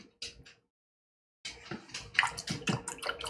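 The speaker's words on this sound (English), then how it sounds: "Can you wash it off with soap and water?" Fingers rinsed under running water at a sink, with splashy, irregular washing sounds close by after a brief silent pause, some faint water noise at the start.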